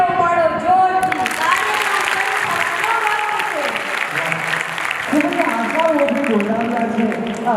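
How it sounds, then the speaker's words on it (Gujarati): An audience at a Gujarati gurukul cultural program claps loudly and continuously, a dense steady roar of applause with singing and voices carrying over the top. "એકવાર તાળીઓ પાડો જોરથી"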